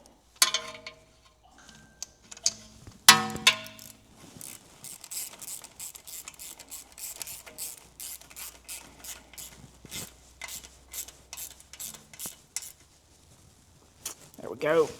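A ratchet wrench tightens a single bolt into the knuckle of an 80 Series Land Cruiser front axle. A few metallic clanks come first, then a long run of quick ratchet clicks, with a brief pause near the end.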